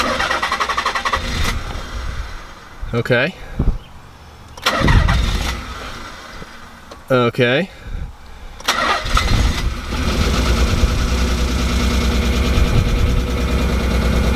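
A car engine with freshly retimed ignition cranks in several short bursts, catches, then settles into a loud, rough, uneven idle; one person speaks briefly near the start.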